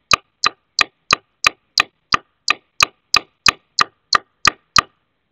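A hammer taps a spile into a maple tree sharply about fourteen times in an even, brisk rhythm, each strike crisp and close with nothing else around it.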